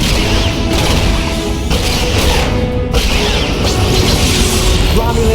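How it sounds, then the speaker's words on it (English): A Romulan ship is destroyed in the Star Trek Legacy video game, heard as loud, dense rumbling booms and crashing bursts with mechanical whooshes, sustained throughout with game voice audio mixed in. "Romulan target destroyed."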